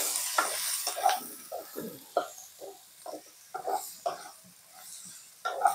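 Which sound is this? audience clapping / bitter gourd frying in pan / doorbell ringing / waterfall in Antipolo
bitter gourd frying in pan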